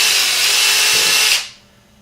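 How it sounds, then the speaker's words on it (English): A power drill bores a hole through wood with a loud, steady whirring grind that cuts off abruptly after just over a second as the bit breaks through, leaving near silence. "And you drill enough holes"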